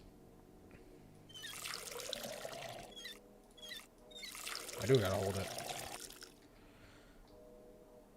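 In the video game Schedule I, a watering can fills at a sink: bursts of running, pouring water swell and fade twice under a voice.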